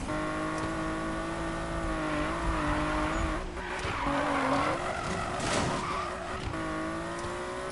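A Porsche drifts in a Need for Speed racing game, its tires squealing in a long continuous howl over a steady engine drone, loud and close throughout with no talking.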